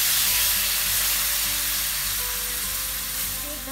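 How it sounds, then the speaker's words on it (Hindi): Sugar syrup poured gradually into browned wheat flour on low heat for Afghani atta halwa, giving a steady, loud broadband sizzle and hiss that fades slightly over a few seconds, with no talk. "ये शीरा जो मैंने बनाया था ये डाल देंगे"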